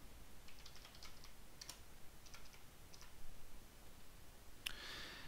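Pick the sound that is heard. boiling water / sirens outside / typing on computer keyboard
typing on computer keyboard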